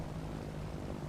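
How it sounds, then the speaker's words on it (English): A PA28 Piper Arrow III light propeller aircraft drones steadily in a flight simulator, a continuous low engine hum holding at even, moderate loudness throughout. "Oh, I hear an aeroplane."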